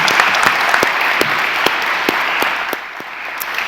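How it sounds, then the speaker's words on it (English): Warm applause from the audience for a panel at an Indigenous design thinking talk during Melbourne Knowledge Week, dense even clapping that holds steady for a few seconds with a few sharper claps standing out. "give a round of applause to Jeff, Marcus, Carl, Michael and Nimrod"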